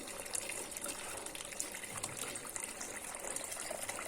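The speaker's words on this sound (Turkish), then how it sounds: "Limonatamı bez bir torbadan geçireceğim. Şöyle yavaş yavaş ekliyorum." Homemade lemonade is poured slowly through a cloth bag strainer, giving a steady, close stream of running and trickling liquid with no pause and no voice.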